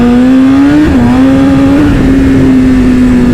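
A four-year-old car with slightly worn tyres is pushed at full throttle, its engine roaring loud and close in a steady drone, with two brief dips in pitch as it pulls hard; no one speaks.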